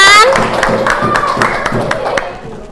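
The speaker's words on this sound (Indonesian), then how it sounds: "tepuk tangan" Hands clap in a classroom, sharp repeated claps from a small group of students with a few voices mixed in, fairly close and steady for a few seconds.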